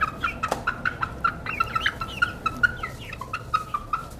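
Laboratory chickens around six weeks old cluck and peep in repeated short calls at a moderate distance, with a soft background hum beneath.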